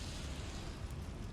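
A Confringo fire spell explodes in the game Hogwarts Legacy inside a goblin mine, producing a faint, sustained rumbling blast that lasts about a second and a half.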